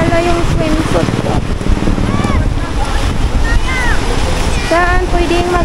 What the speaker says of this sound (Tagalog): Lakas ng hangin dito, guys.